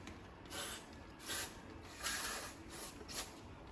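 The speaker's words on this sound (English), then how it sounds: "We're gonna wanna hit this with the brake cleaner and the air, or the carb cleaner and the air one more time." Short bursts of aerosol carb cleaner hiss onto Banshee carburetor parts. Four or five quick, fairly quiet sprays come at an uneven rhythm, with no talking.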